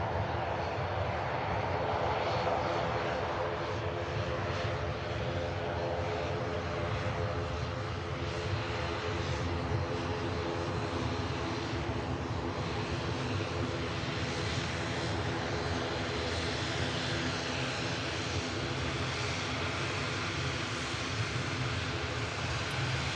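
An airliner's engines roar continuously during departures at Manchester Airport, a loud, steady broadband rumble with droning tonal layers that holds at a constant level throughout.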